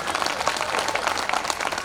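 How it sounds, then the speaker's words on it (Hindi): Audience applause at a live Hindi comedy and poetry stage show, a steady patter of many hands clapping at moderate volume throughout, with no voice over it. "जोरदार तालियां बजाइए।"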